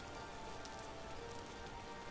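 Steady rain pours down in a video game as a dense, even hiss with scattered drop patter, faint and continuous, with no speech.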